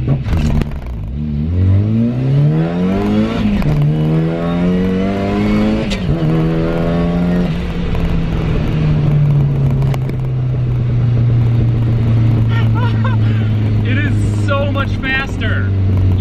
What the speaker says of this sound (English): Flatfoot shifting is working as well. I tried flatfoot shifting there.